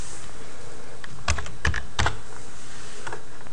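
Computer keyboard typing while renaming a layer in Photoshop: a few sharp, separate key clicks spaced out over a few seconds, close and crisp against a quiet room, no talk.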